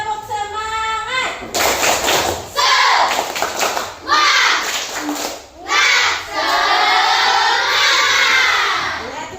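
Classroom of children performing the 'tepuk semangat' clapping chant, rhythmic clapping bursts alternating with loud shouted chanting in unison, nearby, after a brief spoken cue.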